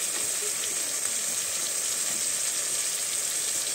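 Green chili and onion hiss and sizzle steadily in hot oil, a continuous bright crackling spread evenly through the moment with no break and no voices.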